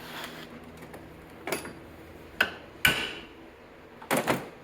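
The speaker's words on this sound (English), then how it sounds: "So to knock the rest of these cups out, sometimes you just do it with a hammer." Hammer blows knocking universal-joint cups out of a Kawasaki Mule 4010 propshaft in a workshop: four sharp metallic strikes spaced unevenly over a quiet background, the last a quick double hit, no talking.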